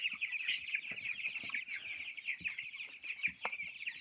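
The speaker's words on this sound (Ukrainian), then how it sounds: "цей під рукою такий півник, напевно, бо так він крунькає" A young Cobb 500 broiler chick, likely a cockerel, peeps and clucks in quick, repeated high chirps while being weighed, close and fairly quiet, with soft rustling underneath.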